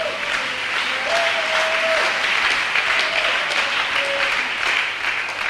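A church congregation applauds steadily and loudly for the whole stretch, a dense, even wash of clapping with a few faint voices calling out beneath it.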